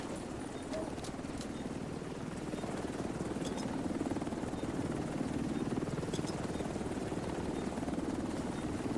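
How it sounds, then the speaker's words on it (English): In The Division 2, a helicopter arrives at an extraction zone, its rotor a continuous chopping drone that swells slightly and stays close and steady, with a few faint high interface ticks above. "Helo is on site."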